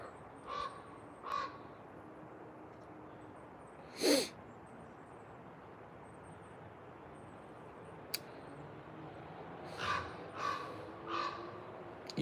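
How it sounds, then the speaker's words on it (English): A raven caws outdoors near a motel, several harsh calls spaced through the stretch, moderately distant, over steady ambient noise with no talking. "you guys hear that raven?"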